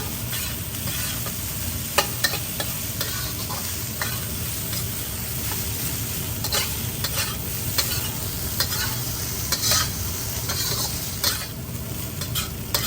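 Chicken fried rice stir-fried in a wok over high heat with soy sauce, a loud continuous sizzle broken by frequent scraping and clanking of the spatula against the pan, with no talking.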